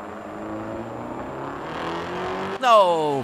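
A car in the Night Runners video game drives with a steady engine hum that climbs in pitch, then revs sharply near the end, with a player talking over it.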